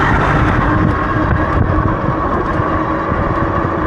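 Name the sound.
wind blowing on the microphone while riding an e-bike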